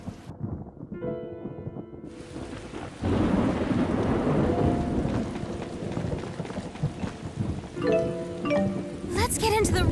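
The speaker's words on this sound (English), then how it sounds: "I hope there won't be any more thunder." Thunder rumbles over steady rain in a stormy scene from the video game Tales of Xillia 2, with a loud broadband roll building after the first few seconds and game music and voices mixed in.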